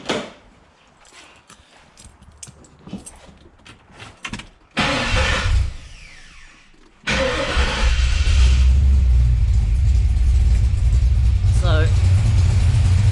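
A Ford XE Falcon, converted from manual to automatic, cranks and fires up with a sudden loud roar, then settles into a steady, deep, close idle; someone talks briefly before the start.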